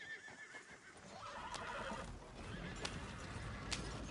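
A horse whinnies in Red Dead Redemption 2 while hooves clip-clop, a few sharp knocks cutting through a steady rumbling background.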